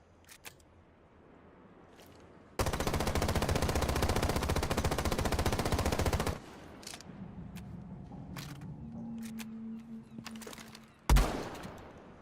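Sustained automatic gunfire in Rainbow Six Siege, a dense rapid burst of about four seconds with recoil being controlled, followed by quieter game sounds, a low hum and a sharp loud crack near the end.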